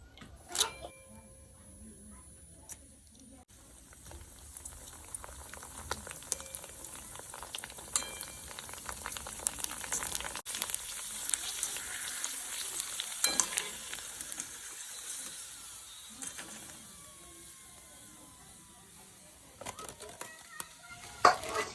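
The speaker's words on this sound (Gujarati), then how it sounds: "પૂરી તળ નાખવી" Puris fry in hot oil with a steady, close sizzle and bubbling, over scattered clicks and light clattering from utensils.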